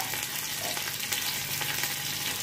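Garlic cloves and four or five chopped green chillies sizzle steadily in hot ghee for dal, a dense continuous crackle with faint stirring and no talk.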